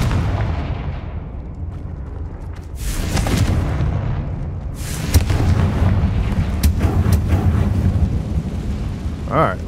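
Confringo fire spells in the game Hogwarts Legacy burst as a series of heavy booming blasts over a continuous rumbling game backdrop, with several loud impacts crowding the second half.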